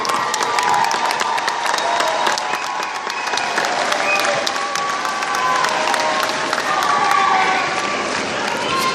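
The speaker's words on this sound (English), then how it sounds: "Clap it up for them." A large crowd claps and cheers steadily for standing graduates at a graduation ceremony, the dense applause loud and sustained throughout with scattered whoops and shouts rising above it.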